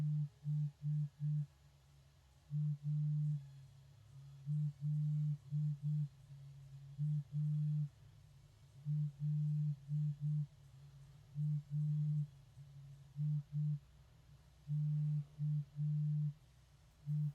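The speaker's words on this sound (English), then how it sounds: "now you can almost visually see that there's Morse code" Morse code tones cut out of a recording, a steady beeping tone keyed in short and long pulses with gaps between letters, repeating across the whole stretch over faint background hiss.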